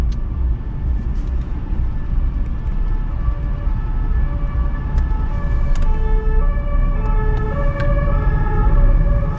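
On a busy Paris street, a police siren wails in repeated rising and falling tones, growing louder as the vehicle nears and passes, over steady traffic rumble and engine noise.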